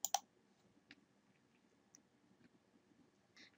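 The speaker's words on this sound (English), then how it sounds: "you can click on the Next button to begin" Sharp, loud mouse click right at the start, with a couple of softer clicks scattered afterward, in a quiet room while pressing the Next button in a student information program.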